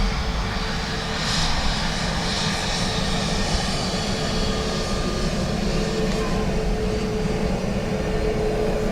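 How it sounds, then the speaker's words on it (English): A steady, loud roar from an Aer Lingus airliner on its full-length takeoff run at Dublin Airport, a continuous engine rumble and whine lasting throughout with no talking. "This Aer Lingus looks for full length, heading to Lanzarote."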